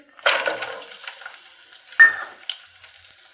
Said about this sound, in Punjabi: ਡਰਾਈ ਫਰੂਟ ਆਪਾਂ ਥੋੜੇ ਜਿਹਾ ਭੁੰਨ ਲਈ ਜੀ